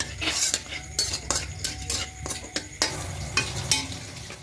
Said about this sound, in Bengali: এবার ঘিয়ের নেবে গোটা গরম মশলা হালকা একটু ভেজে নেব